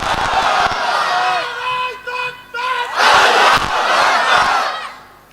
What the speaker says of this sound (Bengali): একজন ভাই নাই জোরে তাকবীর দেওয়ার কেউ নাই?